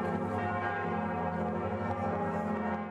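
The bell of Notre Dame cathedral in Paris tolls with a dense, sustained, resonant ring that hums steadily throughout, loud and continuous with no voices.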